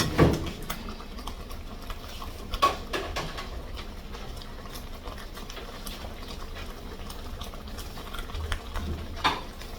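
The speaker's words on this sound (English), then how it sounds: "We're just gonna stir these around in our sauce." Pieces of chicken being stirred and tossed in sauce in a pan for bar-b fried chicken, a continuous wet sizzle broken by scattered utensil clicks and scrapes against the pan, close and steady, no talk.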